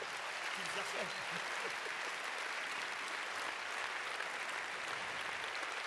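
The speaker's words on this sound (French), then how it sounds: "Bon, on va t'applaudir." Applause from the crowd at the Rennes Challenger tennis final rolls on steadily as a dense, moderately distant wash of clapping, with a few faint voices underneath.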